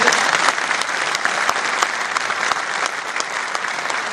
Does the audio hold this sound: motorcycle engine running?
no